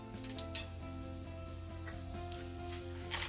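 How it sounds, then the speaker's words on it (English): Cumin seeds sizzle in a little hot oil in a pan, making a soft, continuous crackle with a few brief clinks, quiet and close. "Now to this we'll add cumin seeds"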